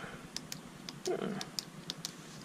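A Cross ballpoint pen in aluminum, a Marvel Spider-Man edition, gives a series of small, sharp, close clicks spaced irregularly over a couple of seconds, with soft background noise.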